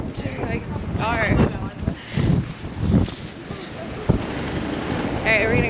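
Cold winter wind gusts hard past the microphone at the Tower of London, a broad low roar rising and falling throughout while a person talks over it.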